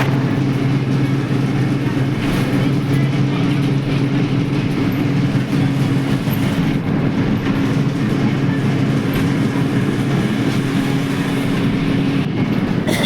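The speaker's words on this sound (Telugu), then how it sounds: "నేనైతే బస్సు మీద వెళ్తున్నాను" Continuous loud engine drone and road rumble from inside a moving bus, with steady low hum and occasional rattles throughout.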